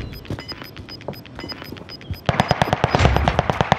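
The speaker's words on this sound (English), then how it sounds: "these fucking Vanguard guns shred" Automatic gunfire from Vanguard guns in Call of Duty: Modern Warfare, with rapid bursts of shots that grow louder and denser halfway through, along with sharp game effect tones.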